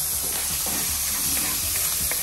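Ham and bacon sauté in a pan for carbonara with a steady, bright sizzle and hiss, close and continuous, with faint stirring scrapes and no talking.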